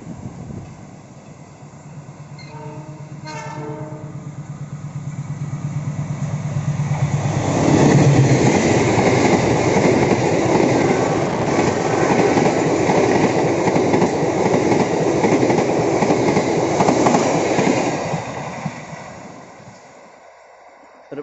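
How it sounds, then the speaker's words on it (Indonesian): Passenger trains, including the Taksaka, pass each other between Jenar and Kutoarjo stations in Indonesia: a rumble builds into a loud, steady roar with rhythmic wheel clatter, holding several seconds before dropping away abruptly. "berpapasan dengan kereta api Taksaka"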